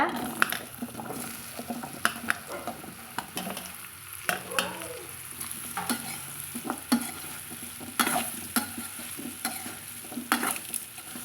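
Spiced tapioca snack mixture stirred in a pan, a run of sharp scraping strokes of a spoon over a constant frying hiss, close and fairly loud.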